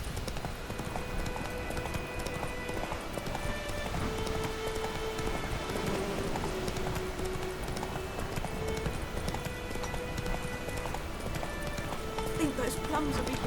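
Roach the horse gallops in The Witcher 3, with hooves clip-clopping in a steady rhythm beneath a dense wash of game sound, music and rain-like noise, moderately loud throughout.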